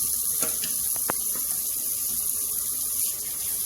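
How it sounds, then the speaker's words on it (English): Hot water runs steadily from a tap into a plugged sink, a constant hiss with a few brief clinks near the start. "So I'm just running hot water."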